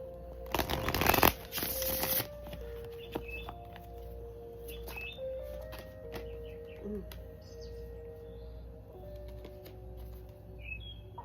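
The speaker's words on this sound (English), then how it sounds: "Let's go ahead and pull some cards and see some tarot." Tarot cards shuffled close by in a short, loud flurry, then softer scattered card slaps and handling in a quiet room with faint birdsong.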